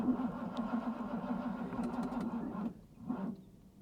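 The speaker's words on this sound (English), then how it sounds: "The battery had 1 crank left in her, and that's all." An old Mercedes-Benz engine on a weak battery cranks with a steady droning grind for several seconds, then stops, followed by one short, faint further attempt that fails to catch.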